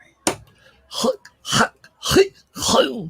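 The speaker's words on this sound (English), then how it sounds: "I'm just clearing my throat" A man clears his throat in a workshop with five short, rough, guttural bursts, close and loud, separated by brief silences.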